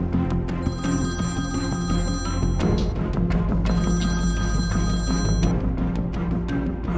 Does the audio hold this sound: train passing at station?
no